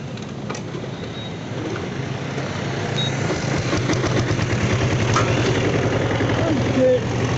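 A diesel Royal Enfield Bullet motorcycle engine runs with a loud, steady low chugging that rises slightly as it continues, with a person talking over it.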